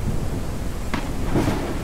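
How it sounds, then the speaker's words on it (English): Heavy steady rain hisses in a video-game thunderstorm, with a brief crack and a low rolling rumble of thunder rising near the end. "Look at this thunderstorm going on out here."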